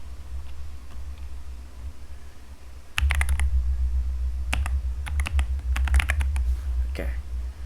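A password is typed on a computer keyboard as a quick scatter of sharp key clicks, some in small bursts, over a steady low hum from nearby equipment.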